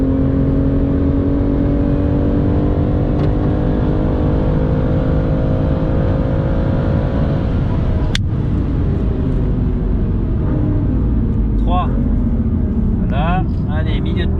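A BMW M2 CS runs at full throttle on the Circuit Paul Ricard track at Le Castellet during a trackday. The engine drones loud and steady and close from inside the cabin, its pitch climbing slowly, and a voice speaks briefly near the end.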